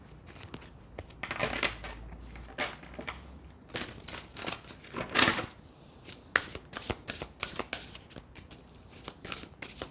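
Tarot cards are shuffled close up in quick bursts of papery riffling and flicking, with sharp snaps and pauses between bouts.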